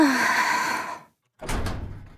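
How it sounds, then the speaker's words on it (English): A detention facility door opens in the game Nikke: Goddess of Victory: a ringing tonal hum fades into a brief silence, then a close, loud burst of rushing mechanical noise with two sharp hissing peaks. "Door of the detention facility opens"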